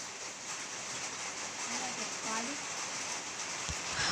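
Steady rain falls in the video game Ark: Survival Evolved, a dense, even hiss that continues throughout with a faint low voice murmuring beneath it.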